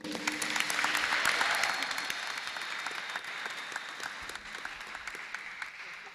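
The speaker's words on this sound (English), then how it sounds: "a round of applause for Zulu Oyibo." Audience applause at a formal panel event in Nigeria, a broad wash of clapping that swells in the first two seconds and then eases to a steady, slightly fainter patter, with no talk over it.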